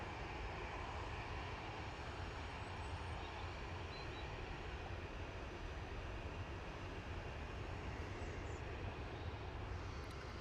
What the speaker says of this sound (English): Heading down to Exeter with flight 371 for Logan Air, ERJ 145. Operating a rolling start.